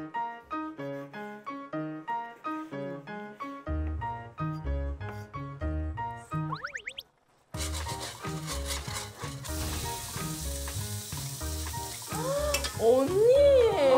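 Octopus pasta cooks in a pan, a broad hissing sizzle rising midway and continuing under loud, busy background music with piano-like notes.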